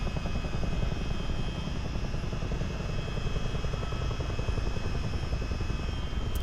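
A CH-47D Chinook helicopter engine in a multiplayer flight game, with a steady, loud, continuous rotor drone and turbine whine throughout, no talking.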